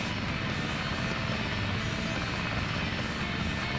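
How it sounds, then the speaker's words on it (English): A loud, steady aeroplane engine drone from the Sonic Adventure DX video game, a continuous roar with no breaks, running alone for nearly four seconds. "Like, the aeroplane sounds extremely loud,"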